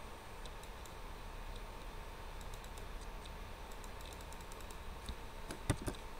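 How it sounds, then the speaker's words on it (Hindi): Faint, sparse clicks of typing on a computer keyboard, scattered irregular keystrokes over a low steady background hum, with a slightly louder cluster near the end. "यहाँ पे टाइप करूँगा।"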